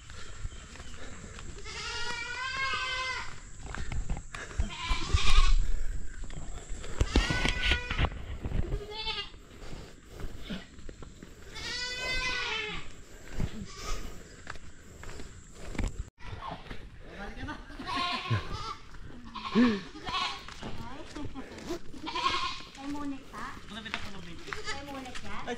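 Goats bleating on a mountain farm during a purchase, several loud wavering calls repeating over a long stretch, with people talking throughout and occasional footsteps.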